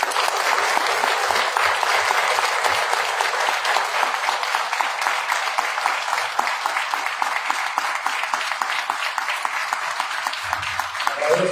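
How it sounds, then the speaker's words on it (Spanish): Loud, sustained audience applause at a May Day commemorative ceremony of a Michoacán union section, a thick continuous roar of clapping hands, with a faint voice briefly audible near the end. "Les pido por favor un gran aplauso para ustedes, para el Comité Ejecutivo Estatal de Michoacán"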